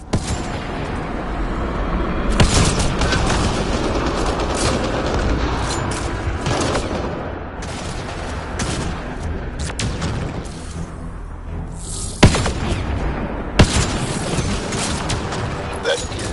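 Gunfire in the video game Mass Effect: Andromeda: steady bursts of weapon fire and booms through a firefight, with two sharper blasts standing out near the end and character voices mixed in.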